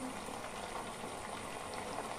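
Apples simmer in a saucepan with a dense, continuous bubbling hiss, soft and steady with no clear pauses.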